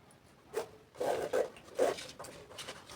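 A zipper on a handmade structured bag is tugged in several short, scratchy pulls of varying length, close up and fairly quiet, with small pauses between strokes.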